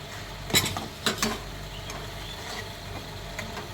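A spoon stirs Rayalaseema curd chilli chutney in a pan after buttermilk is added. Two or three sharp scraping strokes come close together early on, followed by softer, fainter stirring and a light sizzle.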